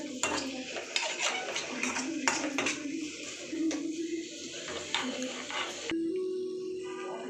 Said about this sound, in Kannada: ಈಗ ನಾವು ಸ್ವಲ್ಪ ಶುಂಠಿ ಬೆಳ್ಳುಳ್ಳಿ ಹಾಕೋತಾ ಇದ್ದೀವಿ. ಈಗ ನಾವು ಫ್ರೈ ಮಾಡ್ಕೊತಾ ಇದ್ದೀವಿ.